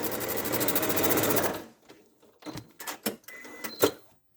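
Sewing machine stitching the grey stomach piece of a teddy bear, a fast rapid whirring run for about a second and a half, then a few short, separate bursts of stitching close by.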